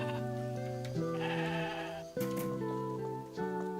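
Sheep bleating in the video game Persona 5X during a side quest to find sheep, several wavering tonal bleats in a row, close and clear with no talk.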